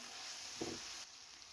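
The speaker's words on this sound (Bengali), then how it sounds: "হালকা একটু আদা বাটা রসুন বাটা নেড়ে নিয়ে" Ginger and garlic paste sizzles steadily in a pan, with a brief louder stirring scrape about midway before the frying hiss settles back.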